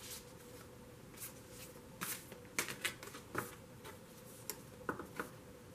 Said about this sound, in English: I'm just shuffling my Whispers of Love deck.